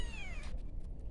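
A kitten gives one clear, high, descending meow close by, followed by faint rustling and background noise.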